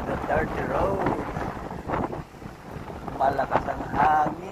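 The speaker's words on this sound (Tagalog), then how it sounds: "Malakas ang hangin, mga kapunyak." Strong wind buffets the microphone in steady, rumbling gusts while a person talks over it outdoors on a dirt trail near Mayon Volcano.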